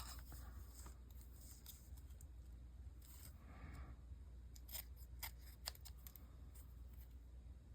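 Scissors snip and trim paper for a collage, a string of crisp, close but quiet cuts in short irregular bursts, with no talking.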